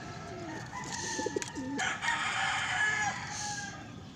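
Soft cooing of a pigeon nearby with some clucking bird calls, over steady outdoor background noise.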